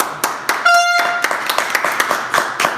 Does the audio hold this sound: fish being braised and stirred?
no